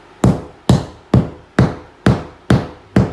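A hammer knocks a drywall screw spot into a recess with seven sharp, loud blows at an even pace, each thud ringing briefly before the next.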